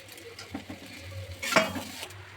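Fried egg is stirred into chowmein in a wok, giving soft scraping and clinking of the utensil against the pan with a light sizzle, plus a brief louder scrape near the end.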